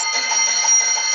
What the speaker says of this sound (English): That bell means I have to go and vote.